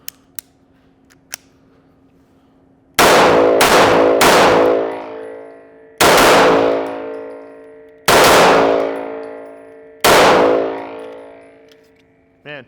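A MAC DS 9 Comp pistol fired at steel targets, with four loud separate shots, each cracking then ringing out with a long metallic clang that decays over about two seconds, after a few small clicks before the first.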